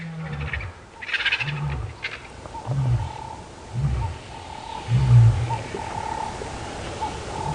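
Lions of the Birmingham Boys coalition roar on a safari at Djuma Game Reserve, a series of deep, rhythmic grunting roars at a moderate distance, with bird calls behind them.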